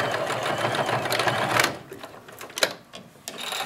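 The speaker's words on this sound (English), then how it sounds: "Line it up and just sew on that original line that I just sewed" A sewing machine stitches along a seam to close a fabric ear, running in a fast, close mechanical chatter that stops and restarts in brief bursts.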